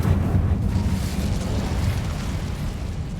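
Incendio fire spell effect in Hogwarts Legacy, a loud, close, roaring burst of flame that rumbles on steadily with a dense low whoosh and no voices.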